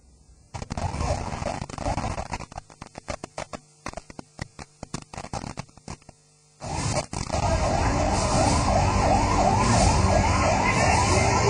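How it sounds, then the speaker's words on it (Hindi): A loud wailing ambulance siren rises and falls repeatedly on a Nepal street, preceded by a series of sharp popping bangs and crackles, with heavy traffic rumble throughout. "नेपाल की सड़कों पर एम्बुलेंस की आवाजें चीखती रहीं"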